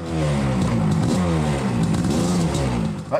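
A motocross motorcycle revs hard on a cross track, a loud, close engine with a wavering, rising and falling pitch that holds steady throughout, with no talk.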